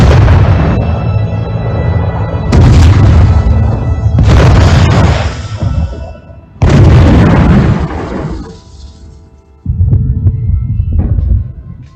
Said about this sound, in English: For days, there was continuous bombardment.